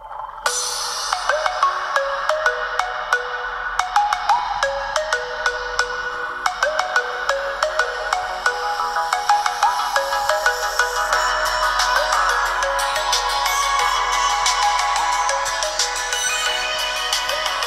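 A stock ringtone melody plays from the speaker of a Teclast X16 Plus 10.6-inch tablet, a bright chiming electronic tune that carries on steadily for nearly eighteen seconds, clear and fairly loud, with no talking.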